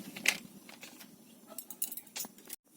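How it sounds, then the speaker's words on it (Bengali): A spoon stirs milk powder into hot milk in a bowl, giving irregular light metallic clinks and taps close by. A short pause comes near the end, with no talk. "এখানে গুঁড়ো দুধটা এর মধ্যে গুলে নেব।"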